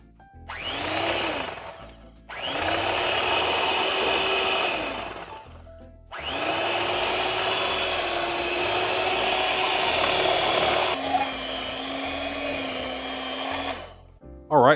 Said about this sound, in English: Let's go ahead and get our hand mixer here.